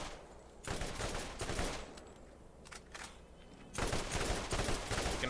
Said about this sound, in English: I can fire 4 bursts before I have to reload.